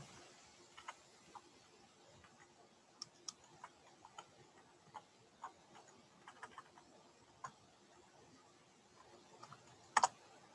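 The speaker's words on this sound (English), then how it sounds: "I'll type it out" Someone types on a computer keyboard with faint, sparse keystrokes in a quiet room, and a short louder cluster of clicks comes near the end.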